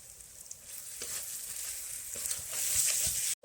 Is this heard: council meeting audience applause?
no